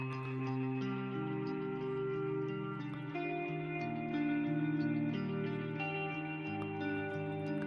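KALIDE Collage plugin's convolution reverb smearing sustained, layered tones into a dense, washy tail; steady and loud, shifting chords blurring together with no gaps and no voices.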